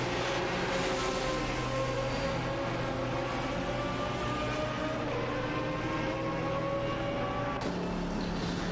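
Racing video game cars, an Aston Martin DBR9 and a Ferrari 575 GTC, drone with a steady, unbroken engine roar that holds at a constant loudness throughout, with no voices over it.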